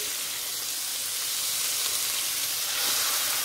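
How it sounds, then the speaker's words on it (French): A pan used for roasting veal in milk is deglazed, giving off a steady, close, hissing sizzle that holds evenly and swells slightly toward the end. "On va déglacer."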